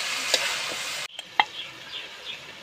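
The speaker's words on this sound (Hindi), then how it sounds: "तो इसको डाल के थोड़ा सा हिलाएंगे 2-3 मिनट तक।" Chicken masala being stirred in a pan, a soft low sizzle with a few sharp scrapes and taps of the spoon, briefly cut off partway through, no voices.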